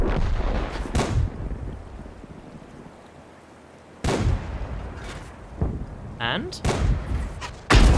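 An artillery gun firing at a tank in World of Tanks: a few heavy booming shots and thuds separated by quieter stretches of wind-like ambience, with someone talking briefly.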